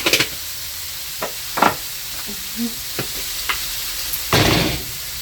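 Spiced chicken filling with cumin is stirred in a hot frying pan, with a soft continuous sizzle beneath several sharp utensil scrapes and knocks against the pan, spaced irregularly and close by, with no talk.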